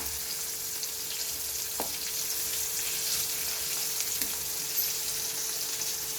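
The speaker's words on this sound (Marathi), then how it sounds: "गॅसची फ्लेम आपण मीडियमच ठेवायचे आणि हे छान फ्राय होऊ द्यायचे" Malvani-style prawns fry steadily in a pan over a medium gas flame, giving a constant close, bright sizzle with a few faint clicks and no talking.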